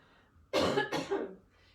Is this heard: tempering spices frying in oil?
no